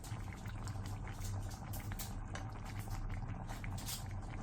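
Soft tofu pork kimchi stew with bean sprouts, green onion and chili peppers bubbling steadily in a pot, a continuous close, moderately loud simmer with popping bursts and no talking.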